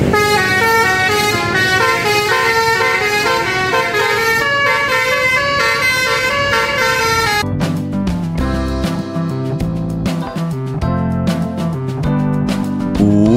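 Aneka Bintang bus sounding its telolet horn, a loud melodic multi-tone honking tune that plays continuously, then shifts into choppier, punchier horn bursts over engine rumble.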